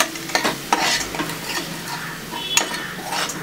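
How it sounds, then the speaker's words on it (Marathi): Turmeric and spices are stirred in hot oil in a pan for a mixed vegetable bhaji, giving a sizzle with sharp spatula scrapes and clinks against the metal. "ह्यात आता आपण हळद घालूया आणि हळदीनंतर आपण आपले बाकीचे हे मसाले देखील घालूया आणि हे छान आपण परतून घेऊया."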